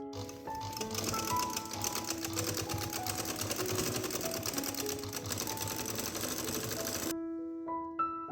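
A sewing machine stitches lace cutwork onto a kurti sleeve, a fast, steady mechanical whir with rhythmic needle clatter running close and loud for about seven seconds before stopping, with music playing underneath.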